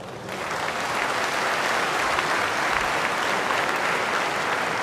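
A large audience at a national rally speech breaks into loud, sustained cheering and applause, a dense roar of clapping that continues without pause.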